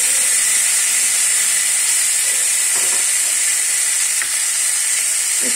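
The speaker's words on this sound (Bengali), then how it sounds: "এবার আমি আস্তে আস্তে একটু চিলি সস দিচ্ছি।" Steady close sizzle and hiss of veg chowmein frying in a hot pan as chili sauce is poured in, a constant bright crackle throughout with a few faint clinks and no talk.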